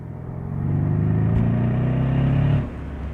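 Engine of a 2015 Mercedes-Benz SL63 AMG with a twin-turbocharged engine accelerating, a steady droning growl that builds, holds and then eases off near the end, heard alone.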